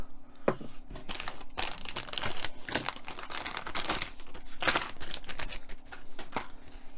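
Plastic bags holding Fanhome Iron Man model kit parts for the right foot are torn and crinkled open, giving close, busy rustling and crackling with sharp tearing bursts throughout.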